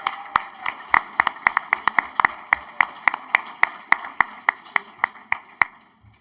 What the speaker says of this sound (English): a big round of applause once again for all of our 20-year employees